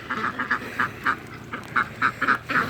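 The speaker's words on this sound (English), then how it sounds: "Sorry again for the ducks being so loud" Ducks kept for weed and pest control in a muscadine grape vineyard quack loudly and repeatedly nearby, a rapid series of honking calls in short bursts over steady outdoor background, with no talking.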